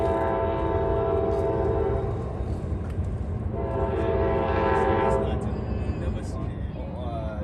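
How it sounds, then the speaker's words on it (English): Freight train rolling past on a rail line near the Hudson River, a loud steady rumble with sustained horn-like tones swelling and fading throughout, close and continuous, with a voice speaking over it. "Another freight train"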